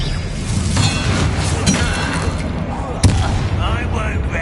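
Spell-casting combat in the Hogwarts Legacy video game, a dense wash of magical whooshes and rumbling bursts with a sharp crack near the end, loud and continuous, with voices mixed in.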